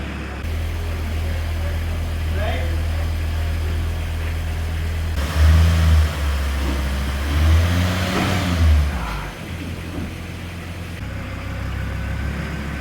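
A VW T4 Karmann motorhome engine idles while warming up, a steady low drone that runs throughout, with a few brief rises in revs and faint background voices.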